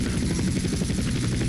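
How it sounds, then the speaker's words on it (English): A Skycrane helicopter in GTA San Andreas gives a steady, loud rotor drone with a rapid low thumping pulse that holds evenly throughout, and no talk is heard. "Controlling this helicopter"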